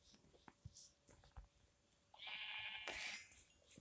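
Sheep bleating in the video game Minecraft, a few short calls followed by one longer bleat near the end, fairly faint and heard on their own, without talk.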